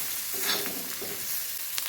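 Bitter gourd frying with onion and tomato in a pan, a steady soft sizzle with a few stirring scrapes, close and alone without any voices.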